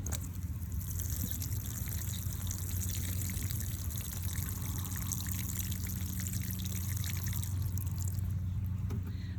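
Water trickles slowly and steadily onto the soil of a potted plant, a soft continuous pour heard close and alone from start to finish.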